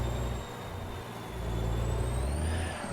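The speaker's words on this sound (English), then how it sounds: "I love the sound of this truck." A Freightliner truck with a Cat engine in American Truck Simulator, driving Alaska ice roads, holds a steady, deep diesel drone that swells slightly partway through, with no talking.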